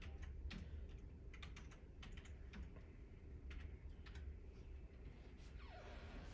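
Someone entering a user ID and password on a computer keyboard, quick irregular key clicks in short bursts over a low steady room hum, no speech.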